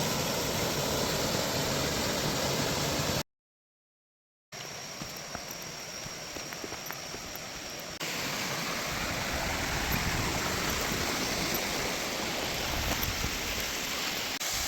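Waterfall near Khao Lak, Thailand, a constant broadband roar of rushing water that fills the whole clip, broken by a brief silent gap, then continuing just as steady and loud.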